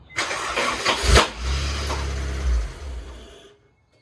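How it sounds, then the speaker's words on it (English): A Honda S2000 engine cranks briefly, catches and settles into a rough, loud idle close by, then cuts off abruptly with silence after. "we're about to turn the car on and find out if that noise is still there"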